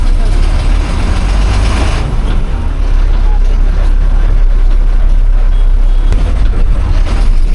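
A KSRTC Sarige interstate bus moves off on its trip from Madurai to Mangaluru, its engine giving a loud, steady rumble and road roar that fill the cabin from start to finish.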